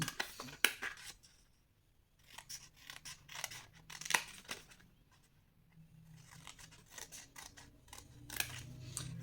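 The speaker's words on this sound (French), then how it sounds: "vous allez couper ici sur toutes les lignes" Scissors snip paper along printed lines for a scrapbook advent calendar, in a quick series of close, crisp cuts with short pauses between bursts.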